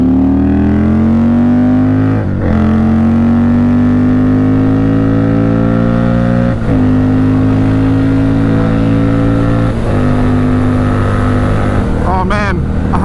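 Custom Indian Scout Bobber motorcycle engine pulling hard on a highway, a loud steady drone with pitch climbing through each gear and short dips at shifts, ending in a quick burst of revving.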